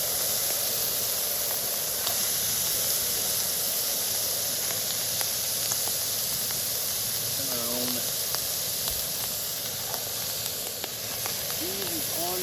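Steam hisses steadily from wet camp gear at a campsite in Ocala National Forest, a constant close broadband hiss with faint voices and small chirps in the background.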